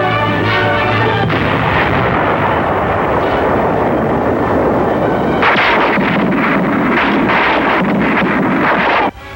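Heavy dynamite charge blasting in 1945 WWII battle footage near Naha, a sustained loud roaring rumble with crackling debris and wind-like noise, continuous throughout and cutting off abruptly at the end.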